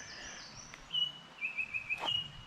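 Faint bird calls, a few thin whistled chirps in short bursts over quiet background hiss.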